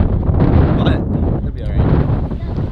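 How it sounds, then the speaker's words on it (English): Strong wind on Maui, Hawaii, roars and buffets a microphone in a steady low rumble, with faint voices barely audible underneath. "It's really, really windy"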